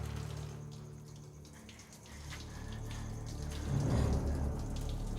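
Steady running water, rushing and continuous, growing a little stronger near the end.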